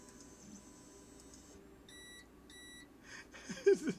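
An Elegoo Mars resin 3D printer beeps while printing, giving two short, high electronic beeps at a steady interval over a low room hum, followed by brief rustling and handling noise.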